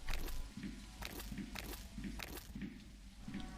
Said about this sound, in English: And that's when the sound of footsteps approached in front of me